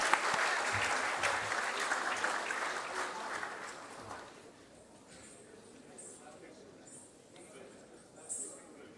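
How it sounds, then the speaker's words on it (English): An audience claps for a Bharatnatyam dance performance at an Odisha tourism summit, a dense round of applause that fades after about four seconds, leaving a quiet hall with faint murmurs. "So a big round of applause for them."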